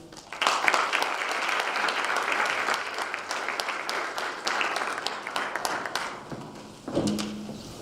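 Warm audience applause for a lecturer, dense clapping swelling quickly and holding steady before tapering off, with a few louder claps and thumps near the end.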